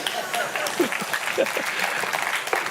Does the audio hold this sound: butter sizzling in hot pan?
no